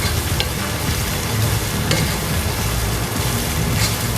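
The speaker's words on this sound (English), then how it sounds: "Let's stir in the veggies." Vegetables for chicken chow mein are stir-fried in a hot pan, giving a dense, steady sizzle with a few scraping clicks from the stirring throughout.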